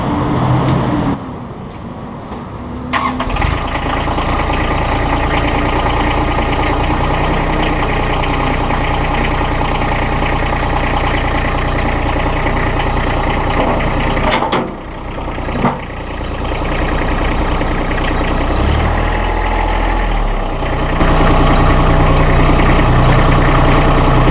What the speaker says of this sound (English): Now to attach, we'll fire up the tractor and we'll show you.